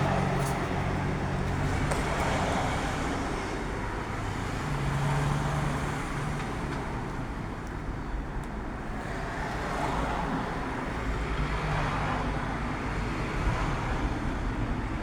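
Steady broadband road traffic with cars and larger vehicles passing in a line along a roadway, a constant mid-distance wash of engine and tire noise with some wind and faint voices.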